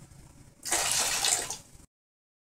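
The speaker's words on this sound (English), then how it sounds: "Dump off some water." Water rushes and splashes out of a gold panning magnetic separator for about a second, a close, steady gush that stops abruptly into silence.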